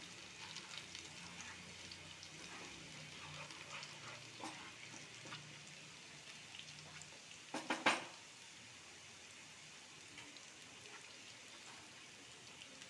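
Garlic fries in a pan while it browns for a paneer masala, giving a steady soft sizzle throughout with a brief louder clatter near the middle and no talking.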